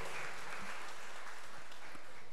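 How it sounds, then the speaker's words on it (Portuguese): A church congregation at a São Severino Mártir feast triduum gives brief, fairly quiet applause, a soft, even patter of clapping over a couple of seconds. "pode aplaudi-lo"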